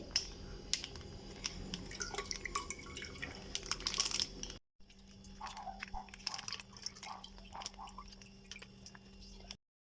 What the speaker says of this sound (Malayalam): ഇതിലേക്ക് 3 പാക്കറ്റ് പാലാണ് ഒഴിക്കുന്നത്.